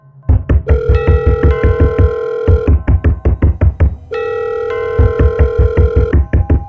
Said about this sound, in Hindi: आकांक्षा का ध्यान तब हटा जब उसके पॉकेट में रखा फोन अचानक बजने लगा।